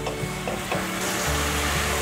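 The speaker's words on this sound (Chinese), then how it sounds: "快速翻炒" Green peppers being stir-fried with seasonings in a wok, a loud close sizzle with the scrape and toss of quick stirring across the whole moment.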